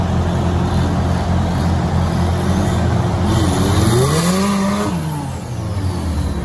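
An off-road UAZ or Niva with a turbocharged engine pulls away into a forest, its loud, steady engine drone rising in pitch as it accelerates, with the note shifting through several gear changes before easing off.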